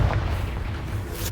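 A Confringo blasting spell explodes in the Hogwarts Legacy video game, a single deep, rumbling boom that fills the brief moment with low-end weight and fades slightly at the end.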